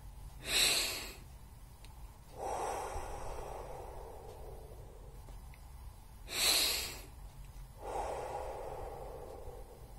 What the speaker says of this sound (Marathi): श्वास घ्या आणि एक आणि दोनच्या काउंटवर म्हणजे क्विक श्वास घ्यायचा आणि मग तो हळूहळू पर्स स्लिपमधून सोडायचा